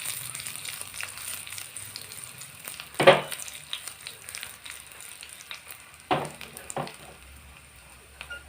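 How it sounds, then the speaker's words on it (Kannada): Red chili pieces frying in oil in a pan, a soft steady sizzle with a couple of sharp louder crackles and stirring clatters, close and alone. "ನಾನಿಲ್ಲಿ ಒಂದು ಕೆಂಪು ಮೆಣಸು ಹಾಕ್ಕೊಳ್ತೇನೆ ಫ್ಲೇವರಿಗೆ."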